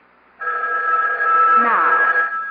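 A telephone rings in a radio mystery drama, a loud, sustained electronic bell tone that starts abruptly and keeps going, with a brief murmur of speech partway through.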